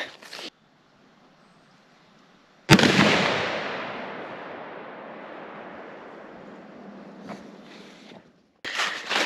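A muzzleloader rifle fires a single loud, sharp shot outdoors during a public-land hunt. The blast rolls into a long booming echo that fades over several seconds, framed by brief handling noises before and after.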